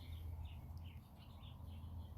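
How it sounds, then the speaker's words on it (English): Birds sing outdoors, with light, faint chirps scattered irregularly over a steady low background rumble and no voices. "the sounds that are around us, like the birds singing"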